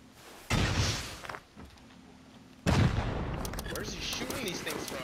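Heavy enemy gunfire in a video game raid comes in two loud sustained barrages, the second running to the end, with voices faintly beneath.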